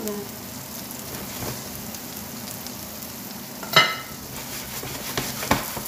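Chicken and merguez with rice frying in a pan, a soft steady sizzle with a couple of sharper clinks of a utensil stirring.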